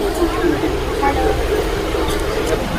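Inside a moving non-AC train from Kolkata to Jhargram, a constant low rumble of wheels and carriage fills the background while a person talks over it.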